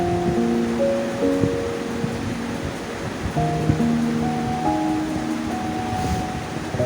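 Cut raw mango pieces drop into hot oil with mustard paste for a homemade pickle, giving a steady, hissing sizzle throughout with soft music playing underneath.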